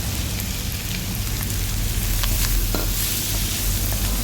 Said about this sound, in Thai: ต่อไปก็เอาเนื้อหอยลายลงนะคะ